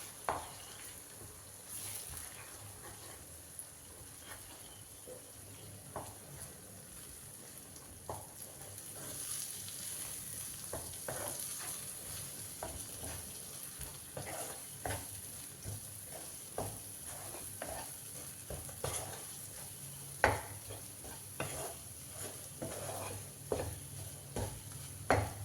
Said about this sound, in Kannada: ಇವಾಗ ಇದನ್ನೆಲ್ಲ ಮಿಕ್ಸ್ ಮಾಡ್ಕೊಳ್ಳೋಣ.